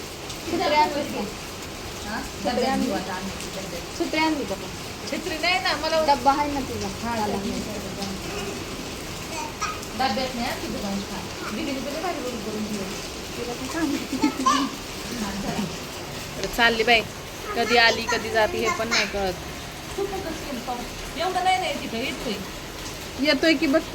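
Steady rain patters throughout while children's voices chatter and play nearby.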